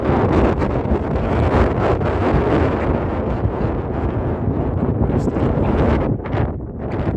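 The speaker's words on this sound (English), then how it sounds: "It's just a little bit windy" Strong gusting wind buffets the microphone in a loud, continuous roar, easing slightly near the end, outdoors in the Falkland Islands.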